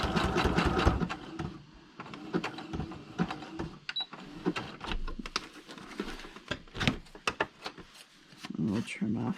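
A sewing machine zigzag-stitches across paper in short, rapid mechanical bursts, starting and stopping, with a person talking over and between the runs.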